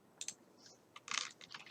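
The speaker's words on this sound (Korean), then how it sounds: "키보드에 딜리트 키를 누르면 이렇게 삭제가 되죠" A computer keyboard is tapped, including the delete key, with a handful of quick, faint plastic clicks in a quiet room.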